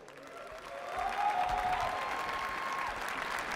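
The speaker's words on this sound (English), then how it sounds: "So big applause, please." A crowd applauds football team captains at an esports-team football match, with steady clapping swelling after the first second and holding at a moderate level, heard from a distance.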